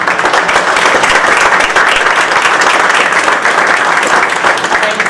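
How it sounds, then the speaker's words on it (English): Steady, dense applause from a large audience at a legislative appreciation reception, filling the space evenly and loudly from start to finish with no pause. "please give these men and women a great round of applause"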